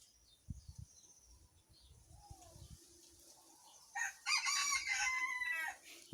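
A rooster crows loudly in one long, strained cock-a-doodle-doo near the end, preceded by soft low thumps and quiet room noise.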